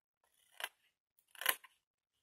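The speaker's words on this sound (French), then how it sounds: "Donc, du côté étroit, je coupe tout droit et j'épointe un peu mes petits carrés." Two crisp snips of scissors cutting straight across small squares of paper for a quick handmade box, close and isolated with a pause between them.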